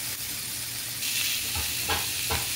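Chili peppers cooking in a covered pan give a continuous hissing sizzle that swells louder partway through, with a low rumbling hum underneath and a few soft bursts.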